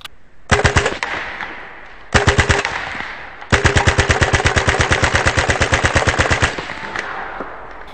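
A Hatsan Blitz full-auto .30 caliber air rifle fires in rapid bursts: two short strings, then a long sustained run of sharp, evenly spaced cracks, loud and close, with no talking.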